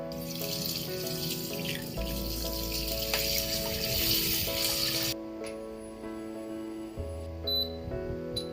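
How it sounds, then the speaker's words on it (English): Pork fat is washed in a pot of water: a steady rush of running tap water and splashing, close and continuous, easing near the end with a few light clinks. "So I'll be washing this in a pot of water."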